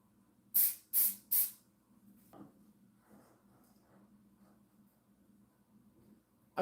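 Super glue activator sprayed onto a wood piece in a workshop: three sharp, loud hissing bursts in quick succession, followed by quiet rustling handling sounds.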